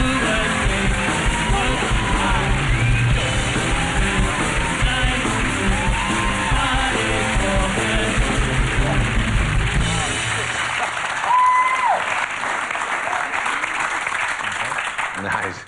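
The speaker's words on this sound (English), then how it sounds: "Is that the best cheer you've ever got in England?" Studio audience on a British TV chat show cheering, whooping and applauding loudly as an Australian cricketer walks on, a dense sustained roar that thins near the end as a few voices carry on talking.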